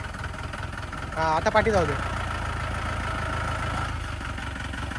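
A Mahindra Marshal engine idling with a steady low rumble throughout, while someone speaks briefly over it near the start.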